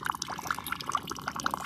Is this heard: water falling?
yes